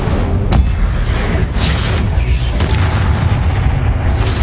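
An Incendio fire spell cast in the game Hogwarts Legacy on PS5: a loud, dense rumbling boom with crackling bursts, continuous and close, amid other spell effects.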